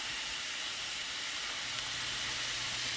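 Thin burger patties sizzle in a hot cast iron skillet, a steady, dense hiss of frying fat running continuously and close with no talk over it.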